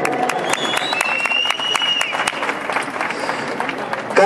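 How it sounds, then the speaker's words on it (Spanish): An audience at a Forza Motorsport 4 national tournament award ceremony in 2012 breaks into sustained applause, with dense clapping throughout and a few sharper claps standing out nearby. "Un fuerte aplauso para él."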